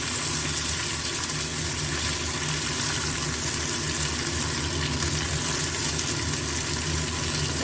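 Onions fry in a pan with a continuous dense hiss and sizzle, steady and close, with no voices.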